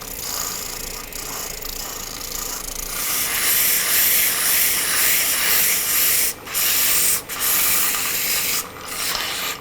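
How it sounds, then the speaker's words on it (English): Sandpaper works a wooden baby rattle turning on a lathe, a loud continuous hissing rub that swells as contact begins and drops out briefly twice as the paper lifts away. "And then we will sand the rest of the rattle."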